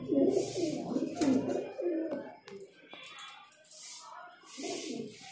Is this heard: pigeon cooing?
yes